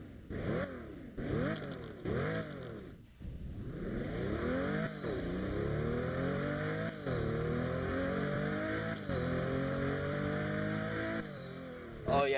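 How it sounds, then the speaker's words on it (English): Pagani BC supercar with a turbo engine in the Roblox game Driving Empire, revving repeatedly through rising and falling sweeps, then climbing through gears in long accelerating pulls, loud and close. "Oh yeah, the turbo sounds are so nice. I absolutely love the turbo sounds."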